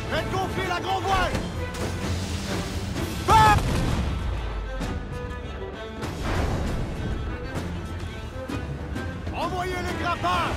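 Heavy booming ship cannon blasts in a naval battle in Assassin's Creed IV: Black Flag, rumbling at intervals over music and battle noise, with voices talking throughout.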